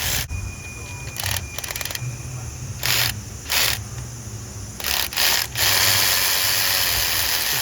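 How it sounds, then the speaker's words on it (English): Electric ratchet running a size 14 bolt in while fitting an alternator on a 2013 Toyota Camry 2AR-FE, several short whirring bursts of the motor separated by pauses, close and loud. "if you guys have an electric ratchet, it's so much easier. Just get it on there, and then just push your trigger in and run that bolt in until it seats"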